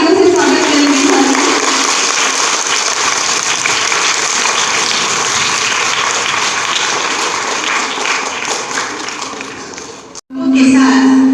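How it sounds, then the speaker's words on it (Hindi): A crowd gives loud, sustained applause to welcome guests at a primary school's annual day and result ceremony in Delhi, the clapping filling the hall for about ten seconds before breaking off, then resuming briefly. "तो सर हम एक बार और जोरदार तालियों से स्वागत करेंगे सर"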